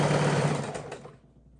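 Sewing machine stitching the border of a baby quilt: a brief, dense, steady mechanical whir close by that fades out after about a second.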